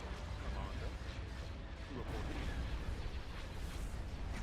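Starship batteries fire during a Star Wars space battle in Thrawn's Revenge, with a Super Star Destroyer engaging the enemy; a dense, continuous rumble of distant cannon bursts and booms, voices talking over the din.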